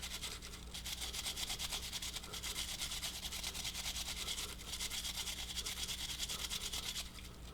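A Real Avid Carbon Boss brush scrubs carbon fouling off an AR-15 rifle, making a steady, close, rapid bristly scrubbing that continues without pause and with no talking.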